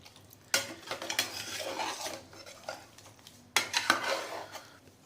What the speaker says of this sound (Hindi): अब हम इसको चलाएंगे।